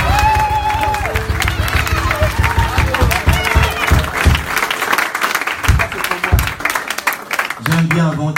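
A church congregation bursts into loud, sustained applause and cheering, a dense wash of clapping that carries on for several seconds, with voices calling out over it before it thins near the end.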